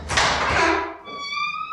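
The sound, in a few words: throne room doors opening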